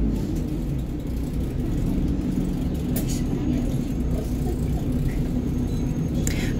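A bus idles at a traffic light on Nevsky Prospekt in Saint Petersburg, a steady low engine rumble with street traffic around it, loud and unbroken, with faint voices underneath.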